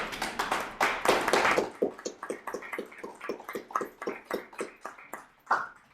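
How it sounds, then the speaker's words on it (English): A small recital audience claps, starting with a brief burst of dense applause that quickly thins into scattered individual claps, then a last lone clap near the end. "Let's give it another applause."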